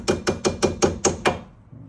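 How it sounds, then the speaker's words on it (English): A new brake pad pin gets tapped into a Fiat 500 front brake caliper with seven quick, evenly spaced metallic hammer taps, close and sharp, fading into quiet, with no talk. "Just give that a little tap."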